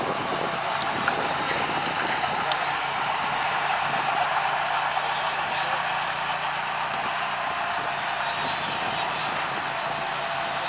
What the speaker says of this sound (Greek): Είναι δύο τα μηχανάκια, τα ελικοπτεράκια.